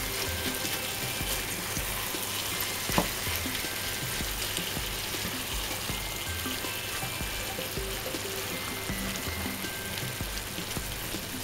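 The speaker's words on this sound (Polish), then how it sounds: "Teraz trzeba będzie to wszystko razem zamieszać." Red beans and corn sizzle and crackle in a small frying pan while being stirred together for a burrito filling, a dense, continuous hiss close up with a few sharper clicks and no speech.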